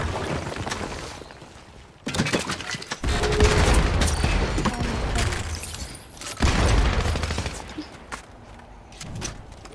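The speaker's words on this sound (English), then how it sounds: "I hear shooting already." Fortnite gunfire crackles as rapid bursts and volleys, loud and near, in clusters separated by short lulls.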